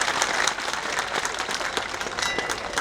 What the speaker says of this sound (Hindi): जोरदार तालियां इनके लिए, जोरदार स्वागत कीजिए।